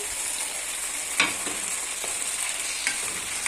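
Onions softening in a hot pan as colored bell peppers and a couple of tomatoes are added, a steady close sizzle with a few soft clacks of stirring.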